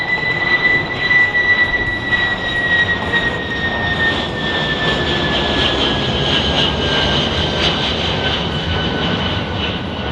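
A Kawasaki C-2 military transport jet at an airshow passes at high thrust, a loud continuous roar with a whining engine tone that slowly falls in pitch, steady throughout with no speech.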